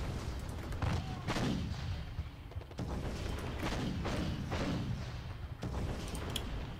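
Gunfire and artillery in a World War I strategy video game about the Battle of Mons: repeated heavy booming shots and thuds in irregular bursts, fairly loud, with faint voices now and then.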